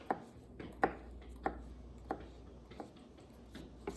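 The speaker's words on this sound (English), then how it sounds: "if you missed a few pieces, you can go back and cut those up" A kitchen knife chops taco salad ingredients on a cutting board in about seven sharp, evenly spaced strikes, close and fairly quiet with a low hum behind.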